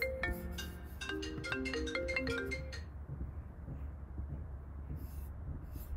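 Mobile phone ringtone chiming in a rapid melodic pattern of bright notes, fairly close, stopping about halfway through and leaving quiet room noise.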